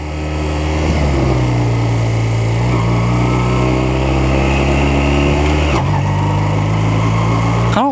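A motorcycle engine drones steadily while riding, loud and close, with a brief dip and pitch drop around a gear change before the engine note resumes at a steady hum.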